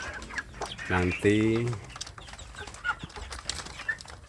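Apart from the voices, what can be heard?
chickens clucking while eating wet feed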